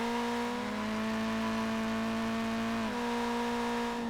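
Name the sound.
generic race car engine in video game High Octane Drift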